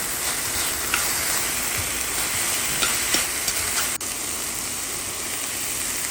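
King prawns go into a hot pan and sizzle loudly and steadily. A few clacks of a utensil stirring and scraping punctuate the frying, with a sharper knock partway through and no talking.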